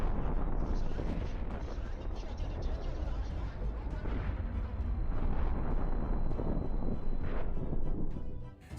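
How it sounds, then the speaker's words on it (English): A supercapital ship blowing up in the space game EVE Online gives a sustained, loud, rumbling explosive roar that fills the whole stretch, with heavy low-end boom and dense crackling debris throughout. "It comes exploding there."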